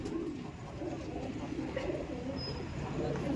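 Punjab-breed pigeons kept in a loft in Dankuni coo in low, steady murmurs against a constant background hum, with no clear pauses.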